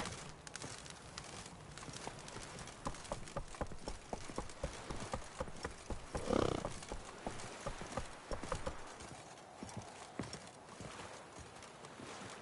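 Roach the horse's hooves clip-clop in The Witcher 3 on PS5, a steady walking rhythm of hoofbeats under ambient game sound, with a brief louder swell midway.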